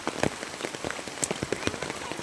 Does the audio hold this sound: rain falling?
yes